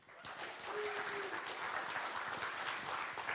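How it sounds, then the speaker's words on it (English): Warm audience applause greets language-learning presenter Benny Lewis at a LangFest 2018 presentation, a steady sustained round of clapping from a crowd that fills the whole stretch. "Please give a warm round of applause for Benny Lewis."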